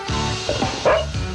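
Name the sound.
dog barking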